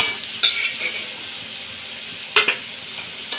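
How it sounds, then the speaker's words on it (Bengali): Mixed vegetables with fried eggplant are stirred in a pan, a spoon scraping and clinking against the metal in a few sharp knocks over a soft, steady sizzle, close and without speech. "দিয়ে হালকা হাতে মিশিয়ে দেবো।"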